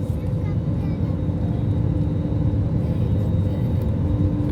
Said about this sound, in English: We are banking left and we are turning to heading of 83 degrees.